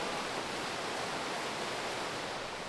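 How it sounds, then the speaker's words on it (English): A raging river in the Idaho backcountry rushes with a dense, steady broadband roar, close and continuous with no other sounds. "Not sure if you can hear me with the the raging river, but we had to cross it."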